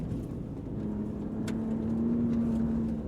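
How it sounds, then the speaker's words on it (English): A 2025 RAM RHO off-road performance truck runs fast over gravel, its engine holding a steady mid-pitched drone while tire and road rumble swell gradually louder. "Now we're moving into a gravelly section where I can carry some real speed, feel the back end move around"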